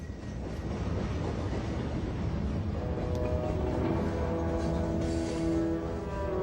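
A train rolls steadily along the rails with a continuous low rumble, and a higher tonal whine or screech rises partway through, loud and close.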